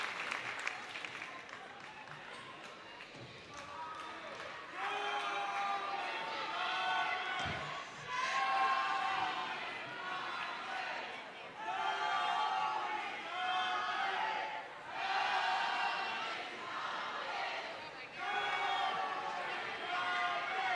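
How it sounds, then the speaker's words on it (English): A crowd at a high school volleyball match cheers and claps for the home team during a timeout, waves of applause and shouts rising and falling across the gym, faint and distant, with an announcer talking over it. "We have the crowd cheering on the Comets."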